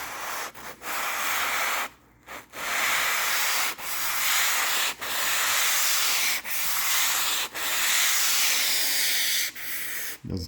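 Sanding along the corner between wall and ceiling: repeated hissing, rubbing strokes of abrasive on drywall, close and loud, each pass separated by brief pauses, with no talking.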